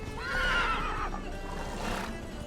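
A horse in The Witcher 3 video game lets out one loud, close whinny that rises and wavers, then fades, followed by a fainter snort.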